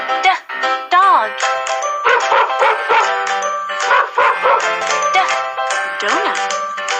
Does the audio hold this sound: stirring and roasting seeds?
no